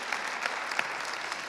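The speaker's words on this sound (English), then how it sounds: "Jim Acosta, big applause" At the close of a political discussion event, a large audience gives dense, continuous applause, many hands blending into a steady wash with a few sharper claps standing out, moderately distant and without speech.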